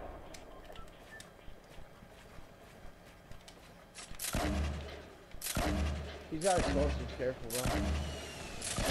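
Gunfire in the Fortnite video game arrives as several loud bursts of rapid shots in the second half, alongside other game effects, while players talk over it.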